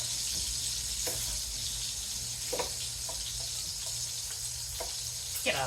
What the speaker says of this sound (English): That's the first thing we're gonna do is brown this smoked sausage